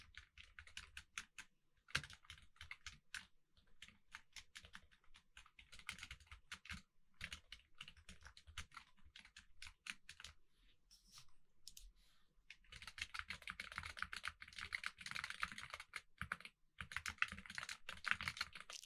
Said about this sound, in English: And typing.